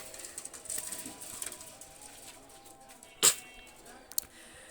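Oman pigeons being released by hand, one short sharp burst of wing flaps near the middle and a brief flutter just after, over quiet background noise.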